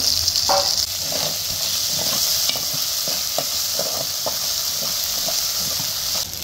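Whole spices (poppy seeds, coriander seeds, cinnamon and cloves) fry and get stirred in a pan for a chicken curry, giving a steady hiss with scattered soft scraping and clicking from the spoon throughout.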